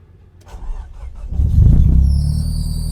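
A Nissan 200SX engine cranks over briefly, then catches and settles into a loud, steady running rumble close by, with no voices.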